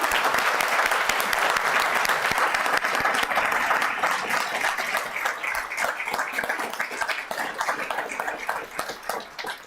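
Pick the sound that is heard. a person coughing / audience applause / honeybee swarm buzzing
audience applause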